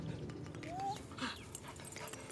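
A Staffordshire Bull Terrier on an outdoor walk whimpers in a thin rising whine, with soft panting breaths and quiet background noise around it, close but faint.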